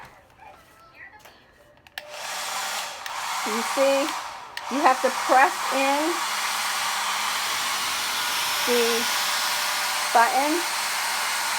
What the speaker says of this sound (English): We have a spacious drawer with a hair dryer inside.